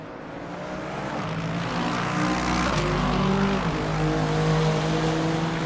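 A GT3 race car in a video game race at Motegi drones steadily along a long back straight, its engine note holding and slowly building in loudness, with no talk over it.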